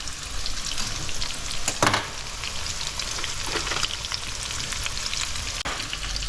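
Floured pieces of bluefin tuna fry in hot oil in a wok, giving a steady, loud crackling sizzle throughout, with a brief louder burst of spitting near the start.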